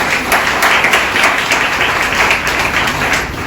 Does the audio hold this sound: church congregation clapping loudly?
yes